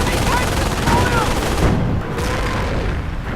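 Nebelwerfer rocket artillery blasts away at bridges in a multiplayer strategy game, producing a continuous loud roar of overlapping booms and explosions that softens slightly partway through.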